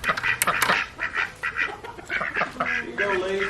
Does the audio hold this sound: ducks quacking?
yes